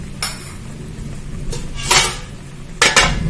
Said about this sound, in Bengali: এবার ঢেকে গ্যাসটা অফ করে দেওয়া হলো।